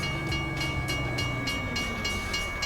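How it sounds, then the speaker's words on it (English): A train in the video game American Truck Simulator rumbles steadily past with a regular clickety-clack rhythm from the wheels, loud and close, with no talking. "Of course, train's coming."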